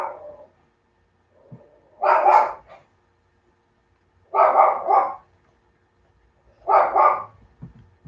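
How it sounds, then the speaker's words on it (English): Small dog barking outdoors where stray cats and passersby come around: three short bursts of sharp yappy barks spaced a couple of seconds apart, moderately close with quiet gaps between. "that's the problem with little dogs. They bark at everything."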